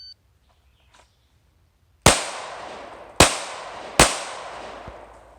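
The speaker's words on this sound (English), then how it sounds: "You have 3 seconds to pull the pistol out and shoot 3 shots up to the spine, to the head." Three sharp pistol shots crack in quick succession at a close outdoor range during a timed shooting drill, each followed by a ringing decay, after a near-silent lead-in.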